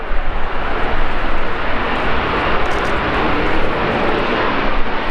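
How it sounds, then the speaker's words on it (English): A McDonnell Douglas EAV-8B Harrier II Plus from the Spanish Navy's Novena Escuadrilla comes in to land at an air show, its loud, steady jet roar filling the air without a break. "From the Novena Escuadrilla of the Spanish Navy, the McDonnell Douglas EAV-8B Harrier 2 Plus."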